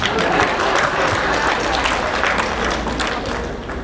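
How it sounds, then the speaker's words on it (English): Loud, dense applause from a convention crowd at an Efik National Association gathering in Houston, many hands clapping steadily throughout before tapering slightly at the end. "A round of applause for me, please."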